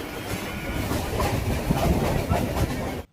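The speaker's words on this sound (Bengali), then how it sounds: "একদম সঠিক সময়ে কিন্তু আমাদের ট্রেনটি ন নম্বর প্ল্যাটফর্ম থেকে রওনা দিল" Local train pulling out of a platform at Sealdah station, Kolkata, with steady rumbling and a rhythmic clatter of wheels over rail joints that stays loud and close throughout.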